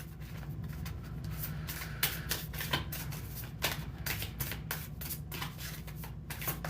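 Oracle cards being shuffled by hand, a steady run of soft riffling flicks and slaps close up, with a low constant hum underneath and no talking.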